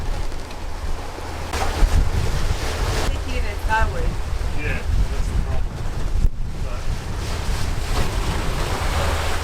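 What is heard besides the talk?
choppy sea waves hitting a sailing boat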